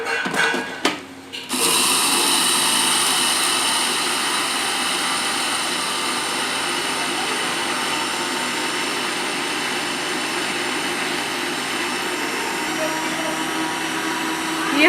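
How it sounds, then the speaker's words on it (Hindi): An electric kitchen grinder whirs loudly as it powders sugar, a steady high-pitched motor roar that runs continuously after a brief stuttering start, with a voice speaking over it. "ये ग्राइंडर में चीनी डालकर ग्राइंड कर लेते हैं"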